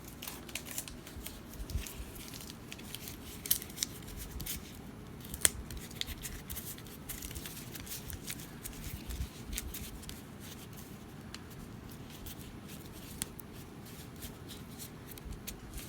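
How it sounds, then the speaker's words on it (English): Tape pulled taut and wound around the head-and-neck joint of a small figurative bust armature gives a faint, steady crinkling and rasping that runs on without a break, with a few sharper snaps. "I'm going to wrap the joint where the head and the neck come together. I'm going to pull that tape really tightly."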